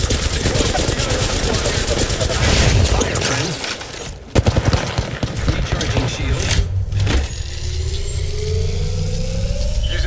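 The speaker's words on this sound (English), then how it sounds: "Turn around and shoot them." Gunfire and engine noise from an Apex Legends match, dense bursts and rumble filling the clip with a sharp break midway, while players talk over the action.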